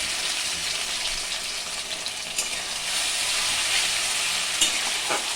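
A paste of garlic, ginger and green chilli sautés in a pan, giving a loud, continuous close sizzle with occasional stirring scrapes.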